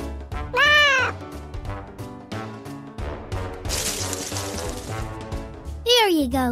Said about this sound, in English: A cat in a tree.